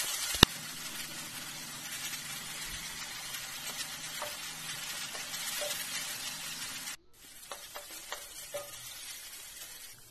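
Onion and chopped green chili fry gently in oil for a meat curry, a quiet, even sizzle with occasional soft stirring taps, cutting off briefly before the hiss resumes more faintly.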